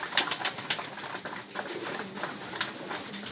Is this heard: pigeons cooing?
yes